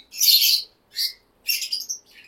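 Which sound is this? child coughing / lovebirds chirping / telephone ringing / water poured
lovebirds chirping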